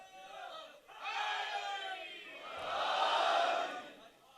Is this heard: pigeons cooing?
no